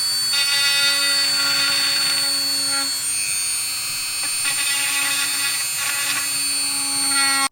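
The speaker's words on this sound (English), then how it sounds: "I'm going to drill these out" A steady high-pitched drill whine runs throughout while drilling holes in a plastic Stormtrooper helmet, dipping and rising briefly as the bit bites into the plastic, loud and close with no talking.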